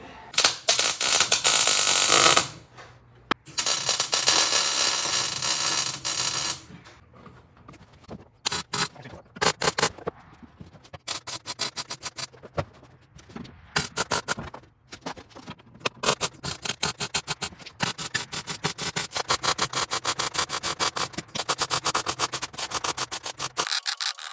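Welding a ground bar onto a 2008 Jeep Wrangler floor pan gives loud crackling, sputtering bursts of arc, a long opening run then many short stop-start zaps, close up with no talk.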